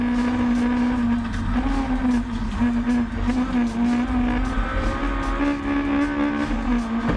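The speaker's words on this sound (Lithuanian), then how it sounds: "kirmantas per greitai uždaro duris Augiui ir du septintos kartos Honda Civicai susiliečia." Seventh-generation Honda Civic race cars in an R1600/R2000 championship circuit race in Lithuania, engines roaring loud and continuous at high revs with steady gear-held drone throughout.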